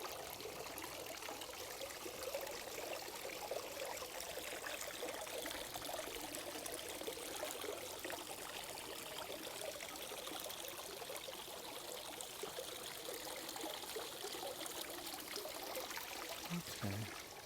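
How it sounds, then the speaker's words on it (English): A fountain's water flows and splashes continuously at a soft, even level, with no voices and no breaks. "enjoy the soothing water flowing sound from the fountain."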